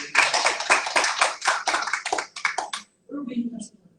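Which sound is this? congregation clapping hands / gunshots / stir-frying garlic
congregation clapping hands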